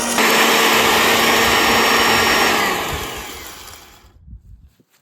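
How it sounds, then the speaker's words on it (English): An electric grinder milling homemade Kunekune pig feed runs loud and steady with a high whine, then winds down over a couple of seconds and falls silent. "So now that it's done grinding, I take this off and set it on my empty 5-gallon bucket."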